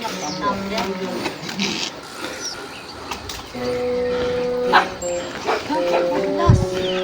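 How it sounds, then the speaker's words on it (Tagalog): A dog swimming in water barks and yips several times, with a whimper, while people talk and exclaim loudly around it. "Ay, galing, lumalangoy yung aso."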